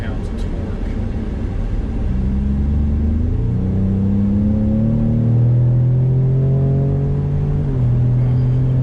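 A 2019 Ford Raptor with a twin-turbo 3.5 liter V6 rumbles up close as the engine climbs in pitch through several rising sweeps of acceleration, with a steady low road drone underneath.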